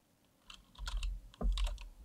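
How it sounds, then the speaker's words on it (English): Soft, quiet clicks and taps of a computer keyboard as someone types a short string of characters, a handful of separate keystrokes with a brief pause between two clusters. "I'm just going to type in"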